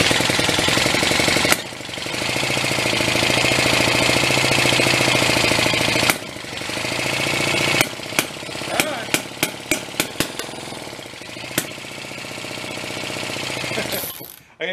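A pre-war Elgin single-cylinder cycle engine, stored at least 45 years in a barn, sputters and runs at close range: long stretches of rapid, harsh firing broken by sharp pops and short gaps, then cutting out near the end.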